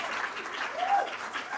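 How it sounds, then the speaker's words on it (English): Audience applause at a school district governing board meeting, a short burst of many people clapping at a fairly low, even level, steady for under two seconds. "give her a round of applause and your flowers"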